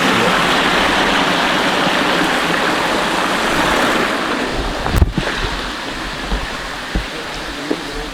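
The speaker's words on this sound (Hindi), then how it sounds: "पानी इसी तरफ से आ रहा है, ये जाएगा रुकी नदी की।" Ruki river water rushes steadily near a village in Ghagra, Gumla, a dense broadband flow with wind-like roar, easing slightly midway with a few soft knocks.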